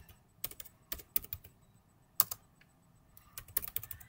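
Computer keyboard typed in bursts while entering network switch configuration commands: quick clusters of crisp key clicks separated by short pauses, close and fairly quiet with no voice.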